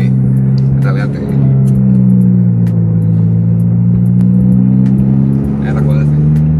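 A Volkswagen Polo on air suspension drives through a handling test, its engine hum and road rumble steady with a slight rise and fall in pitch, and people talking inside the car over the engine.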